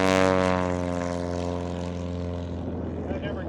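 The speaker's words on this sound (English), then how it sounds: "That never gets old seeing that plane take off." A light propeller plane with a 235-horsepower engine takes off at a short takeoff and landing competition in Valdez, Alaska, its loud droning roar near at first, then steadily fading as it climbs away.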